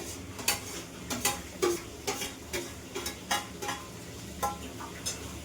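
Chopped tomatoes fry in hot oil in a home kitchen pan, giving a steady sizzle. A spoon scrapes and stirs in quick repeated strokes throughout.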